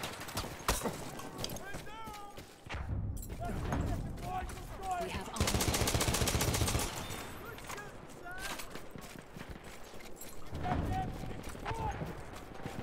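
Chauchat machine gun firing in Battlefield 1, with bursts of rapid shots amid battlefield noise and a player talking over the action.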